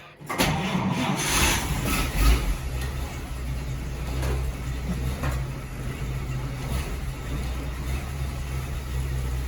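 A car engine cranks and catches, then settles into a steady, rumbling idle that runs on continuously nearby.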